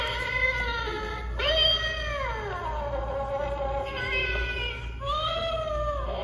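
An animatronic Halloween decoration cat in a store lets out long, drawn-out electronic meows, three sliding calls with brief breaks, loud and close over a constant low store hum.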